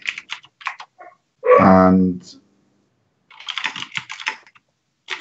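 Computer keyboard typing during a podcast discussion, heard as a quick run of close clicks alongside brief speech and a loud voiced sound.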